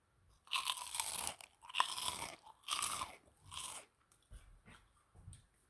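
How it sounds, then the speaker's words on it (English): Crunchy fried pork skins, chicharron, bitten and chewed close up, with several loud crisp crunches in bursts followed by quieter chewing, no talking. "this little crispy chicharron is just fried pork skins. They're crunchy, they're savory, they're salty."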